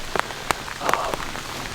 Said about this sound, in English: I'm here, and I'm sitting in the rain anyway